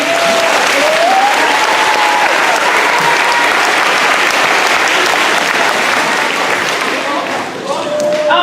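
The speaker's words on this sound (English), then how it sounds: "let's give a round of applause for Sammy." A round of applause from an audience at a program event, loud and sustained with heavy continuous clapping and faint voices mixed in, dipping briefly just before the end.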